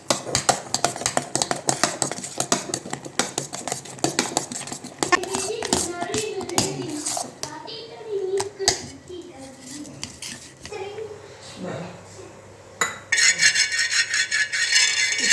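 Two eggs with chopped onion are beaten briskly in a bowl for an egg urad dal dosa; a utensil clinks and scrapes against the dish in quick, uneven strokes, close and fairly loud, easing off near the end.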